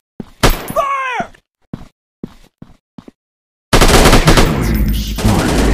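In Counter Strike on Android, a rapid burst of automatic gunfire erupts loud and close after a few brief game voice lines and clicks, then rattles on continuously to the end.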